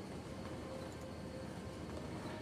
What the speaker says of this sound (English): one Union Pacific cargo train should appear under the roads and out of this tunnel any second